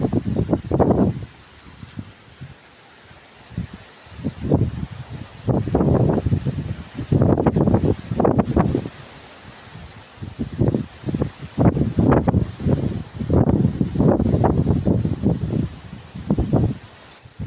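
Wind gusts outdoors in a rural part of North Aceh, coming in uneven bursts that buffet the microphone between quieter lulls.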